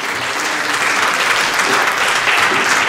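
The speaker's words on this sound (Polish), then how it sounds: "Bardzo gorące brawa dla pani dyrygent." A choir festival audience in Miechów gives the choir conductor loud, continuous applause, a thick, even clatter of many hands from start to finish with no pause.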